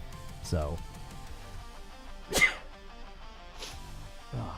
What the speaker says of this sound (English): Sneeze attack.